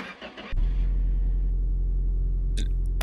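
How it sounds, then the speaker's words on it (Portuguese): Car engine starting in the My Garage mechanic game: a starter catch at half a second, then a loud, steady low idle rumble close by, with a brief mechanical click near the end. "Deixa eu ligar o carangão aqui"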